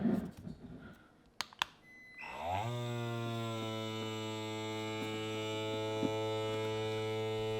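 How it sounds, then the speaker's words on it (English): Electric mason jar vacuum sealer starting up in a kitchen after a couple of button clicks, then a steady buzzing motor hum with strong harmonics droning on evenly, close and alone. "Click the button and the electric mason jar sealer starts to vacuum."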